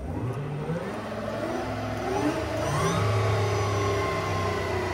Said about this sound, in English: You can hear the motor actually running.